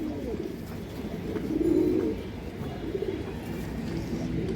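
A male pigeon with red-brown plumage coos in a low, rolling phrase near the middle, followed by a fainter second coo, against steady background noise.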